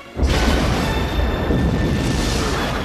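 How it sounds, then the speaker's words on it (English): A Star Trek Generations film effect of the starship Enterprise's body exploding: a loud, sustained roaring blast that bursts in suddenly and rumbles on densely for almost three seconds. "as the saucer accelerates away from the body explodes behind them"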